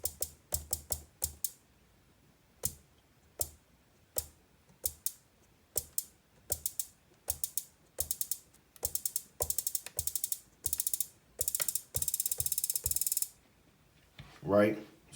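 Hi-hat ratchets programmed on an Akai Force drum machine, starting as sparse single hits and speeding into denser, faster rolls, ending in a near-continuous bright hiss before a short tonal note at the end.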